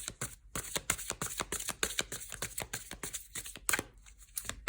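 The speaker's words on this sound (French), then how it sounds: "on va retirer une petite carte justement pour affiner" Tarot cards riffled and slid against each other in a rapid, crisp flurry of papery flicks and snaps, close up, with no voices.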